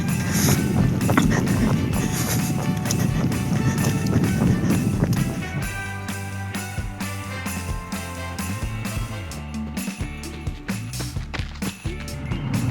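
Footsteps run along a concrete half-pipe drainage channel on a trail, a rapid rhythmic patter of close strides that continues steadily throughout, with no voices over it.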